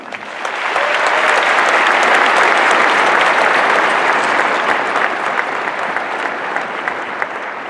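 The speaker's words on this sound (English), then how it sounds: "how about giving them a round of applause?" A large graduation audience at the West Point academy applauds the academy's leadership, steady loud clapping swelling within the first second and holding dense and even to the end with no voices above it.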